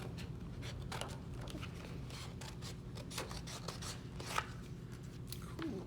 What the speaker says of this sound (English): Now cut them out on the line.